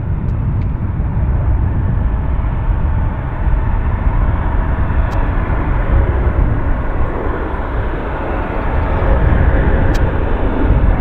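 Airliner departing from Vancouver airport toward Toronto, a loud, steady jet engine roar that holds for the whole stretch with slight swells in level.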